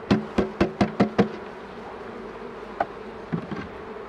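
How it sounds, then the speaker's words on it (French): Honeybees hum steadily at a hive during an early-spring inspection, a low buzz beneath six sharp, evenly spaced knocks at the start, then a quieter drone with a few soft bumps. "Petites abeilles."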